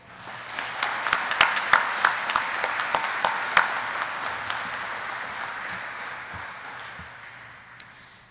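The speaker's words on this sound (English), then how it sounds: "Let's give them all a round of applause getting 2409 to the stage today." A graduation ceremony audience for a US Air Force helicopter training class breaks into applause, with sharp individual claps standing out over a steady wash of clapping that gradually thins toward the end.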